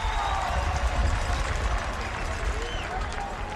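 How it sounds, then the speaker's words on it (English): A rowdy crowd at a Thanksgiving Day high school football game at Fordham University's Jack Coffey Field fills the stadium with a loud, continuous roar and chatter, with faint whistles and cheers rising through it. "this crowd is getting rowdy at Moglia Stadium at Jack Coffey Field"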